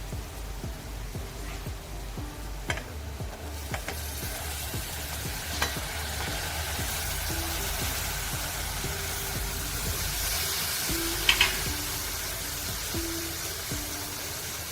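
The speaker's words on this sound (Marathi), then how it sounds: "आणि आता आपण चिरून घेतलेली कंटोळी टाकणार आहोत" Chopped kantola (spiny gourd) frying with homemade masala in a pan, a steady, close, dense sizzle and crackle running throughout with occasional stirring clatter and scrapes, no talking.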